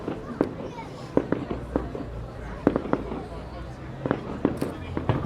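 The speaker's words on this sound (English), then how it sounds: "as the shutter is open, the fireworks will burst" Fireworks burst over a fairground at night as a series of sharp, irregular cracks and pops, some in quick clusters, others spaced apart, heard at a middle distance over a low steady rumble of crowd noise.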